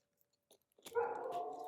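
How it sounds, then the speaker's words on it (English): A dog lets out a faint, distant howl that rises from a few soft yips into a sustained wavering tone. "Dogs howling."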